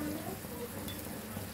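Water hits a pan of frying onions and garlic for a country chicken curry, producing a soft, even hiss and bubbling that holds steady for a moment, quiet and close.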